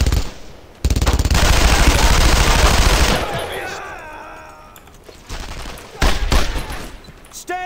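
Sustained machine gun fire in a World War II shooter game, a loud, dense burst lasting about two and a half seconds, then fading into scattered distant shots and another short close burst near the end.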